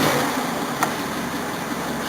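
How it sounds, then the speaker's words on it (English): Old Datsun or Mazda car engine idling steadily just after a cold start without choke, a close, even rumble with a faint brief tick partway through, no voices. "Oh wow, it actually idled."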